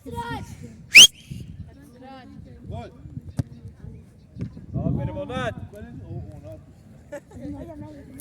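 One short, shrill referee whistle blast rings out near the start of goalkeeper training, followed by people talking and moving about in an echoey space.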